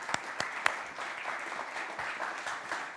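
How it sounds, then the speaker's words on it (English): Audience applause fills a conference hall as a European Parliament member is welcomed to give a keynote in Scotland, steady dense clapping with a few sharper claps standing out near the start. "please give him a big round of applause."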